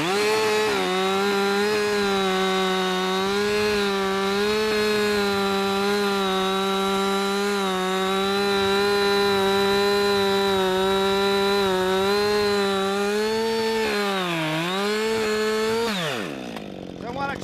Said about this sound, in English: Now that the saw is into the wood, it will not turn on me.